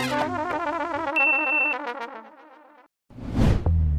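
A phone ringtone plays a warbling electronic melody for about three seconds, then stops briefly before a sharp whoosh and a low thud.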